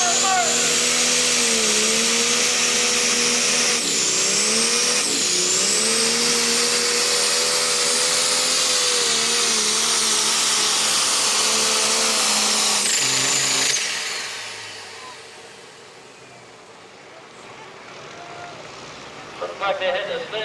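A truck and tractor pull engine screams at roughly 6,000 RPM as the pulling tractor launches off the line, a loud, sustained high-pitched roar with pitch wobbles that cuts off abruptly, leaving quieter crowd and arena noise.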